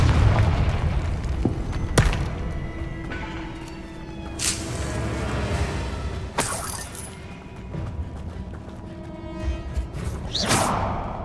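Confringo fire spell cast in Hogwarts Legacy, with several sharp explosive bursts and booms breaking over a dense rumbling game soundscape, crackling and whooshing between blasts.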